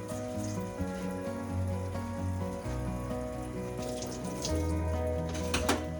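Steady running water from a tap splashes over freshly sharpened Japanese kitchen knives being washed at a sink, a continuous close gush with small clinks and shifts as the blades move under the stream.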